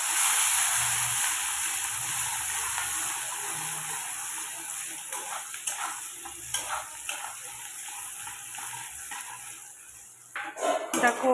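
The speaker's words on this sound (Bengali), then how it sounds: "এবার পেঁয়াজটা আমি দিয়ে দেবো, দিয়ে ভালো করে লাল লাল করে ভেজে নেব।" Onion dropped into hot oil for frying, a loud bright sizzle and hiss that fades gradually, with spoon and pan scrapes and clinks scattered through, louder stirring clatter near the end.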